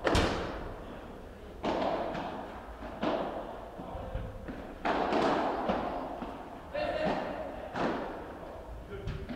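Several dull, thudding padel ball strikes ring out one after another during a match, volleys among them, spaced a second or two apart under continuous commentary and crowd murmur.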